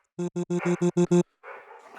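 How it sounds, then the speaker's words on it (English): A dog gives a rapid series of seven loud, close barks in quick rhythm, followed by a softer whining growl. "the thing that is making those terrible barking sounds"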